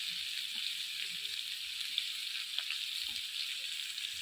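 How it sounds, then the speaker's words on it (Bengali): Potatoes frying in a pan give off a steady, soft sizzling hiss that stays fairly quiet and even throughout, with a few faint pops. "আলু ভাজা হতে এখনো লেট আছে"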